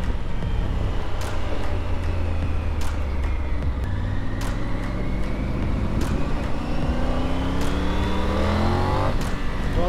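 A Triumph Tiger 900 GT Pro motorcycle engine drones steadily while riding, its pitch rising and falling through gear changes under constant wind rush, with periodic sharp clicks.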